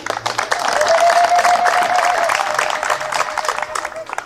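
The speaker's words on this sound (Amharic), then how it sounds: "ለቤተክርስቲያን መሪዎች ለኮሚቴዎች ለወጣቶች አንዴ ሞቅ ያለ ጭብጨባ" A church gathering's audience gives warm applause for its leaders, committees and youth: dense, sustained clapping from a crowd, loud and continuous for several seconds.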